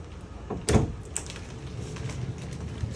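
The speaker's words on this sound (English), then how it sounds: "Privacy door between the bathroom and the bedroom." A privacy door between the bathroom and bedroom of a 2018 Crossroads Cruiser Aire 29BH fifth wheel RV slides with a quick thudding rattle, then a lighter click, in a quiet room with no talk.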